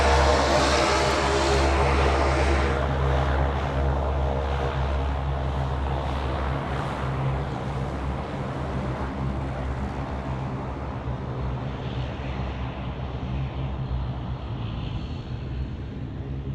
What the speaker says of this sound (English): It's like the Rex aircraft that just come past, right?